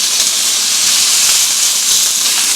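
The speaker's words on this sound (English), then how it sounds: "And then add in your steak. We're going to cook this for about 90 seconds, like this." Steak searing in a hot pan gives off a loud, dense, steady sizzle, a broad bright hiss that holds evenly for a few seconds with no talking.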